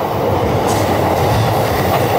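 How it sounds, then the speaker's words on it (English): A train rolls past close by near Tokyo Station, a loud continuous rumble with rhythmic clickety-clack from the wheels on the rails. "You can see the train too."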